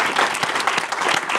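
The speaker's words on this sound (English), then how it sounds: "Let's give them a round of applause" An audience at a field debate claps in a dense, steady round of applause, close and fairly loud for the whole short stretch.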